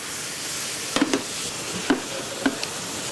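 Strawberries cooking briefly in a pan, with a soft steady sizzle and a few sharp stirring knocks and clinks of a utensil against the pan.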